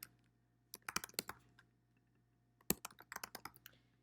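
Bursts of computer keyboard typing while working in a Google Sheets spreadsheet, two quick clusters of crisp, close key clicks separated by a quiet pause, with a faint steady hum underneath.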